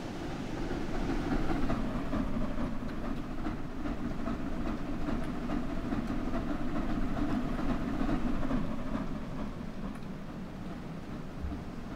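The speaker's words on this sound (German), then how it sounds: "mit der Dampflok zu fahren" A BR 01 steam locomotive in Train Sim World 4 chugs along with a steady, rhythmic rumble and clatter, moderately loud and continuous throughout.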